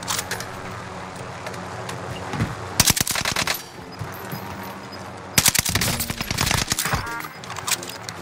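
Rapid automatic gunfire rattles in Call of Duty Warzone on Rebirth Island, two dense loud bursts separated by a pause, over steady game ambience with no talk.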